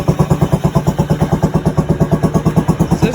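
A Venom X22 GT motorcycle idles close by, its engine and stock exhaust thumping in a steady, even pulse of about ten beats a second, loud and alone.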